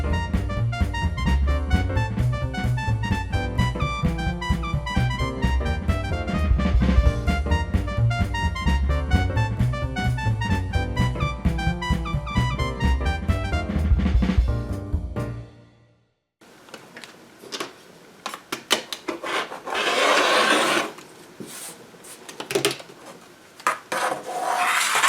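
Apron fabric cut freehand along a chalk sketch gives crisp, irregular snipping and rustling close by. It follows a long stretch of music, with no speech.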